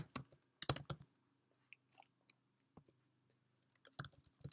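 Bursts of keyboard typing, quick clusters of clicking keystrokes separated by pauses, close and fairly quiet over a low background hum.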